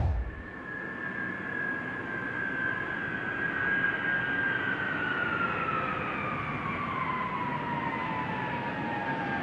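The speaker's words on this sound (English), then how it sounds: "We're bringing this airplane here." A retired Air Force cargo airplane flies in on its final flight toward an aircraft boneyard, a steady broad engine roar with a sustained whining tone that slowly drops in pitch as it passes.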